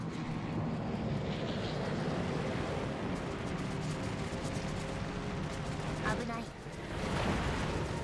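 Aircraft engines drone steadily over the ocean in World of Warships. A continuous roar blends with surf-like wash and swells slightly near the end.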